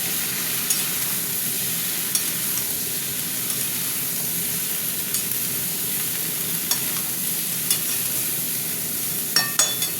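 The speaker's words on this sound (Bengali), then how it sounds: "সবজিগুলো দিয়ে এবার ভাজা ভাজা করবো" Vegetables frying with fish in a pan, a steady sizzle and hiss with scattered scraping clicks of a spatula stirring, close and without voices.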